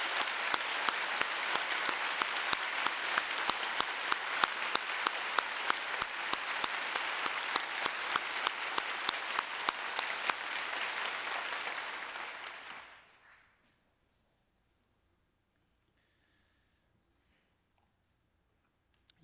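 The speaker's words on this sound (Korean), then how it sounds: "우리 그동안 수고한 세운 관현악단을 위해서 큰 박수로 한번 감사의 뜻을" A church congregation applauds its orchestra during a Sunday service, long sustained clapping from a large crowd for about twelve seconds before fading out to silence.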